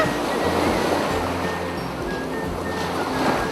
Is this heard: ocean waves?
yes